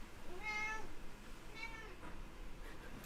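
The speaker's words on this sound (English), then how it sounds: "She meowed when I picked her up," A quiet cat meows a couple of times, short and high, against a soft background hush.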